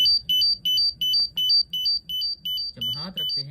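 An MX4 gas detector alarm beeps during a bump test in quick repeated high double tones, steady and loud, with a low rumble beneath and a brief noisy burst near the end.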